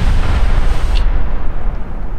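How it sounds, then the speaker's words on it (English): A banana bomb goes off in the cartoon artillery game Worms Reloaded, a loud, close blast with a long rumbling tail that fades out without any talking. "Everyone died just from the explosion of the banana bomb."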